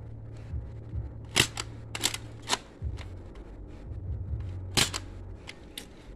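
A bug hunter salt gun fired at the ground gives a few sharp, close snapping shots spread across the moment, with a low mechanical hum between them and no talking.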